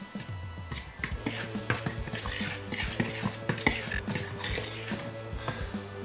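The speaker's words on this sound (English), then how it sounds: "Now I'm just going to use a fork to stir this up." A fork stirs chopped sun-dried tomatoes in a bowl for bread dough, giving a steady run of scraping clinks and taps against the bowl, close and fairly loud.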